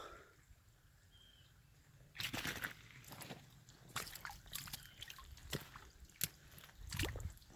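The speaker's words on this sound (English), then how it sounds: "I'm standing in the creek right now." Feet wading through a shallow creek running over a rock slab, producing intermittent sloshing and splashing bursts of water, fairly close, after a quieter stretch of flowing water.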